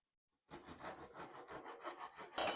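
Hand saw rasping through wood in a small hand-tool woodworking project, a steady run of close back-and-forth strokes that starts abruptly and grows slightly louder at the end, with no talking.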